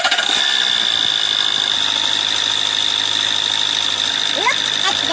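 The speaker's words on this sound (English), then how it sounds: "Now start engine again." A car engine runs at a steady idle, with a leaking injector and work on the AC system. A constant drone and high whine fill the clip close to the microphone, with faint chirps near the end.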